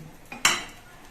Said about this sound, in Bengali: কড়াইতে সাদা তেল দিয়ে দিচ্ছি